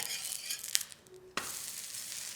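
Gram-flour thalipeeth sizzling in oil on a pan after being flipped, a steady close crackle with a sharp burst midway as it lands.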